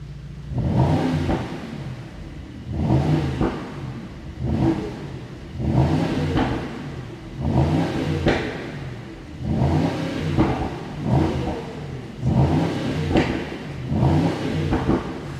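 A 2022 Mercedes SL AMG V8 engine revs repeatedly against a rev limiter set around 4000 RPM, loud and close, with about seven evenly spaced bursts that rise and fall in a steady rhythm, with no talking.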